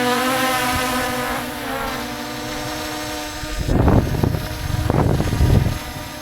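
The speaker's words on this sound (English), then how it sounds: "All right, our drone is up there," A Bugs 18 Pro drone hovers after takeoff, its motors giving a steady tonal whine that shifts pitch, then gusty wind buffets the microphone in loud bursts.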